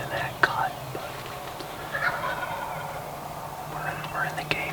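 Wild turkeys gobbling from a roost in a wooded cut in Vermont, distant rolling gobbles arriving in several bursts over steady low background hum, faint and far off with no voices.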